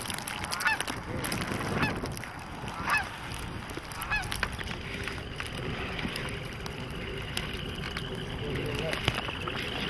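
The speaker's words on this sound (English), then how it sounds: "We've got a loner. A lone goose." A lone big Canada goose honks from a distance over a pheasant-hunting field in Iowa or Illinois, giving a handful of short, nasal calls at uneven intervals against steady outdoor noise and faint voices.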